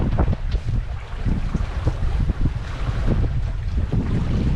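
The sailboat Navicula heading out into the open ocean, strong wind buffeting the microphone in loud, gusty rumbles over the rushing wash of water and waves.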